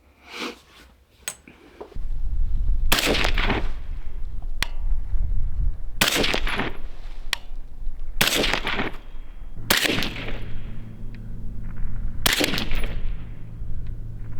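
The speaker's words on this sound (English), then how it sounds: "hopefully you enjoy the shooting footage right after" A Ridgeline RD-15 rifle fires about six loud, sharp shots outdoors at irregular intervals, each crack followed by a short booming echo over a low background rumble.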